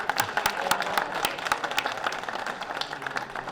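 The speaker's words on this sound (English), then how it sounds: "let's give our winners another round of applause" An audience claps for the winners at a college esports showcase awards ceremony, with individual hand claps ringing out in a moderate, uneven patter from a modest crowd that gradually thins.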